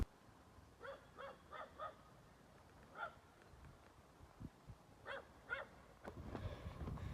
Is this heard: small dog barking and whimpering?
yes